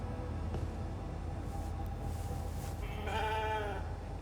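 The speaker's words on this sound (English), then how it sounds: "Hey, there's the sheep." A sheep bleats in a short wavering call near the end, heard in the video game The Alters over a constant low ambient hum, slightly echoey and artificial in tone, with no talking.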